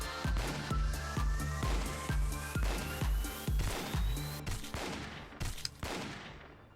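Rapid rifle fire in the management horror game Lobotomy Corporation, a steady string of sharp, evenly spaced shots that thins out and grows more ragged toward the end, with no talk over it.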